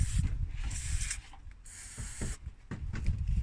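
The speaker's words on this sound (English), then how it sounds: "I gave it more spray because everything needs more spray." Bursts of aerosol spray hissing in short blasts with brief pauses between during strut replacement on a Nissan Almera N16, close and fairly loud over some low rumbling handling noise.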